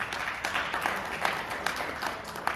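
An audience at a diaspora political convention applauds in steady, dense clapping with a few louder claps standing out, heard fairly close throughout.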